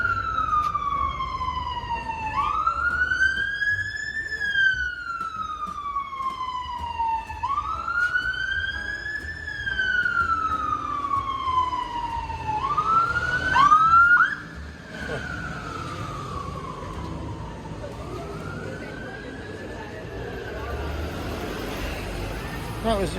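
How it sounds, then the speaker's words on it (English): A fire service emergency vehicle's wailing siren rises and falls in long sweeps as it passes nearby on a street, fairly loud and then fading slightly as it moves on. "That was the fire service."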